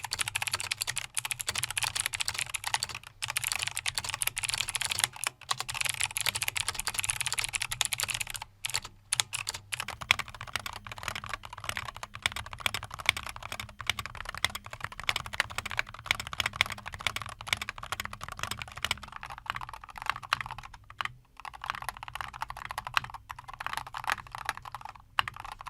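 Close, rapid typing on a custom mechanical keyboard built for playing Brawlhalla, with a steady clatter of keystrokes running almost without pause and only a few short gaps.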